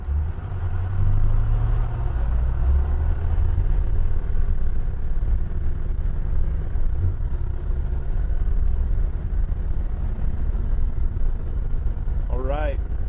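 A diesel school bus drones as it accelerates, a steady low engine rumble running throughout with faint voices underneath.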